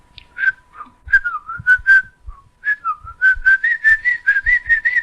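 A person whistles a wavering, tune-like melody on a 1986 family cassette tape, the notes coming in short phrases and then a longer run, close and clear over a faint steady tape hum.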